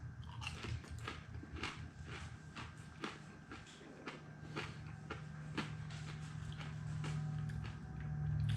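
Close-up crunchy bites and chewing of pork cracklin battered fried speckled trout, a steady series of crisp crunches at a quiet level with no talking.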